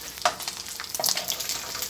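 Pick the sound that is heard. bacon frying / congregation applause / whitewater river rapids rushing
bacon frying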